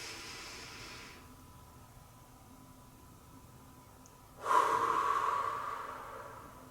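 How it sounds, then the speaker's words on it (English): A person breathes in and out deeply, first a long exhale, then a quiet pause, then a loud, close, breathy inhale that trails off, with no talking. "let's all take a deep breath"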